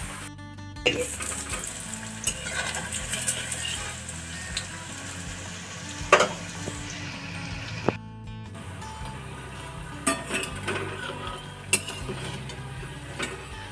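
Pithe rice cakes fry in oil in a home kitchen during the Poush Parbon festival: a steady sizzle runs throughout, with occasional clinks and stirring knocks from utensils and pans.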